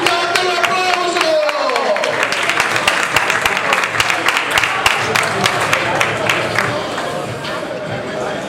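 An indoor boxing-event crowd breaks into sustained clapping and cheering for a boxer named Luca after the final round, dense applause that gradually thins out, with a public-address voice and chatter mixed in.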